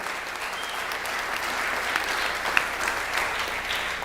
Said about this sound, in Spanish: Así que vamos a dar un aplauso de bienvenida a toda la gente que nos está viendo